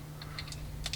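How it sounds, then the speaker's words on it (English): Plastic parts of a Deluxe Delta Squad Megazord toy robot snap together, giving a few quick, sharp, close clicks in a quiet room. "It's a very satisfying click there."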